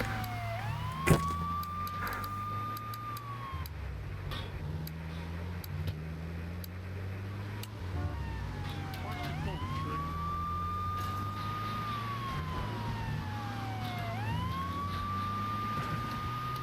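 A police siren in Grand Theft Auto 3 wails in repeated rising and falling sweeps over a steady game engine drone and background music, loud and continuous.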